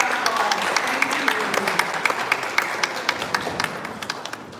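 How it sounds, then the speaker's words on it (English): Applause from an audience at a banking summit awards event, a steady crowd of rapid claps with sharp individual hand strikes standing out, sustained and fairly close throughout. "let's give our round of applause"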